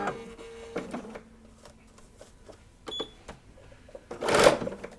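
A sewing machine runs a locking stitch while piecing a quilt block, giving a few brief mechanical whirring bursts and taps amid quiet gaps and then a louder, denser stitching run near the end.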